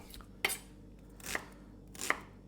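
A knife slices through an onion on a cutting board in three separate, sharp chops spaced roughly a second apart, close and quiet with no talking.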